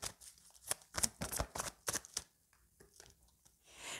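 Tarot cards are shuffled and dealt in a quick series of close, crisp riffles and slaps. A softer rustle follows as they are laid out, and no one talks.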